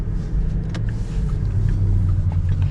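Porsche Taycan 4 electric car giving off a steady low synthetic drive hum and rumble, continuous and fairly loud throughout with no talking.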